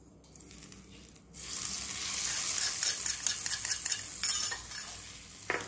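Batter being stirred after warm tempering with asafoetida is poured in, giving a steady wet scraping and swishing close up that runs almost continuously after a brief quiet start, with no talking.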